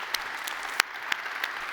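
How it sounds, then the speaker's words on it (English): At the 7th CTBT Science and Technology conference, a brief patch of scattered handclaps comes from the audience: a few separate, sharp claps spaced apart over a quiet background rather than a full ovation. "Friends, you should give yourselves a round of applause."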